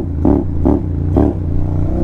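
Honda X-ADV scooter engine riding at night in Paris, loud and close with a steady low drone broken by three rhythmic surges in revs as it shifts down on its own.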